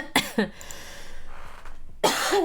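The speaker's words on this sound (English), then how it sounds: "My cough is still quite annoying. The COVID dry cough." Two quick, dry COVID coughs up close, followed by a quiet pause, then a louder, harsher cough at the end.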